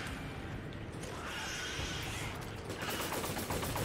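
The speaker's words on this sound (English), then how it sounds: "I guess I'll use a grenade." A grenade blast in a Resident Evil 5 co-op boss fight rolls out as dense, continuous rumbling explosion noise with crackling bursts, loud and sustained throughout without voices.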